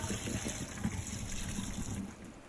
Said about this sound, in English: carefully drain the boiling water